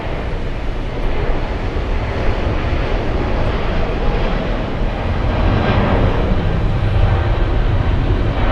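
An Emirates airliner moving at JFK airport, a loud steady jet engine roar with a broad rushing texture that swells slightly partway through and holds continuous to the end.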